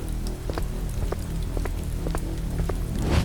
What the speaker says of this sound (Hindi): रिया गेट पर पहुंचती है और हल्की बारिश हो रही होती है।